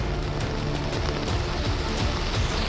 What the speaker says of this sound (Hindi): बारिश इतनी ज़्यादा तेज है